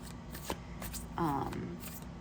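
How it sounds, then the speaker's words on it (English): A brief riffle shuffle of a tarot deck, a quick fluttering rasp of cards close by, with a faint voice in the background. "this one's not that easy to riffle shuffle for me"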